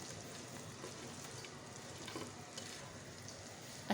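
Fried cauliflower is stirred into Manchurian gravy in a pan, giving a faint, even sizzle that holds steady throughout with no voices.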